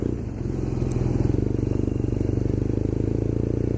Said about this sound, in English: You get a bit of a torque reaction when you rev the engine.